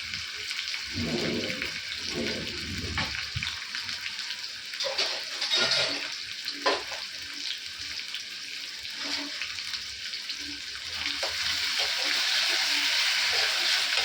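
Onion and green chillies fry in a pan for jackfruit bhaji, a continuous hiss that grows louder and fuller toward the end. Occasional clatter and low voice-like murmurs come through at the start.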